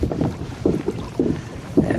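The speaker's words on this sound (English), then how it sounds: "we're gonna fight this wind, try to find some wind protection" Gusty cold-front wind buffets a kayak on the Indian River and Mosquito Lagoon, rumbling close against the microphone in uneven surges, with no talk.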